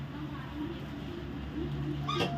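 A brief cat meow rises near the end over a steady low background hum, fairly faint and short.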